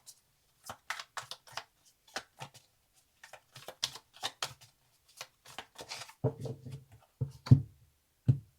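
Tarot cards shuffled and drawn make a close sequence of crisp flicks and papery snaps, irregular and quick, then a few softer thuds as cards are laid down.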